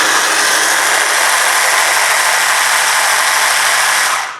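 An electric stand mixer beats a large batch at steady, loud, close range, a dense even whir that holds for several seconds and then cuts off abruptly at the end.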